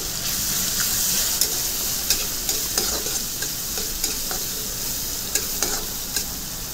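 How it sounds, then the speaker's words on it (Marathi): Finely chopped tomato frying in a pan over high heat, a constant loud sizzle with regular scraping taps of a spoon stirring, close up and with no talk. "एक मोठ्या आकाराचा टोमॅटो बारीक चिरलेला त्याला देखील फ्राय करून घ्यायचा आहे 1 मिनिट मोठ्या आचेवर"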